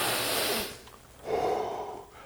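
A person breathes out forcefully in a demonstration of ventilation: two breathy exhalations, a longer one at the start and another after a short pause, close and fairly soft with no talking.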